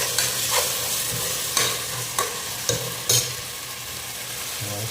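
Tomato paste sizzles in hot oil in a pan for a Tamil milk-fish curry. The hiss runs steady and close, and a few sharp stirring scrapes break through it, with no talking.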